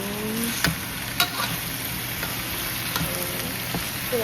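Onion and garlic sauté in a pan as the base for a pork and liver stew, a loud, even hiss of frying with a few brief clicks of stirring.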